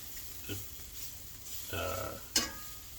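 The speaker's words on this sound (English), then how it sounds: "it takes about a minute for that to cook in, our flour" Gluten-free flour cooks in a frying pan for smothered pork chops, with a low, faint sizzle and a few soft stirring scrapes, the last of them a sharper clink.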